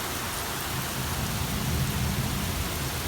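Heavy rain pours onto a flooded front yard, a dense, steady hiss with a low rumble underneath, loud and unbroken from start to finish.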